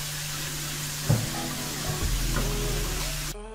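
Methi (fenugreek) leaves frying in a pan for aloo methi, giving a steady broadband sizzle with a few soft stirring knocks and a low hum beneath, ending abruptly.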